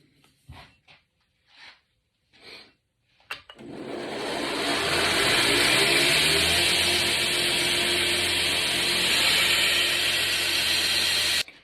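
Belt grinder putting an edge on a broken axe head with a 40 grit belt, a steady loud abrasive whine and rasp that starts abruptly after a few faint knocks and runs continuously to the end.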